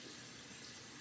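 Tap water runs steadily into a sink to give food a quick rinse, a quiet, even broadband rush with no other sounds over it.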